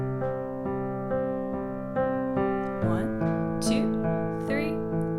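Piano left hand alternating root and fifth in a steady even pulse, then shifting to a new chord partway through, with clear sustained tones at moderate loudness and no talking.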